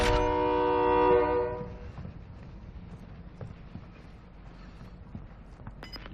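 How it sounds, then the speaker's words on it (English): A train in the video game Call of Duty Warzone 2.0 sounds a loud, sustained horn for about two seconds, then its rumble fades to a low distant rolling with faint clicks, and no one speaks. "There's the train."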